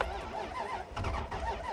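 A truck engine cranks over and over with a labored, whining rhythm on a weak battery, never catching, heard up close on a snowy day.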